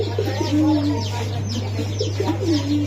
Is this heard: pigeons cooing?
yes